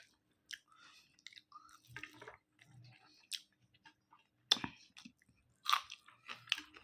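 Close, soft crunching and squishy chewing of a mouthful of hot rice and cooked leafy greens, coming in irregular bursts with quiet pauses between bites.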